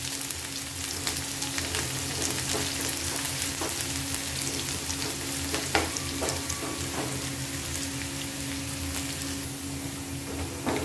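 Finely chopped small onion frying in hot ghee for a dhaba-style urad chana dal, giving a loud, dense, continuous sizzle and crackle with a few faint clicks of stirring throughout.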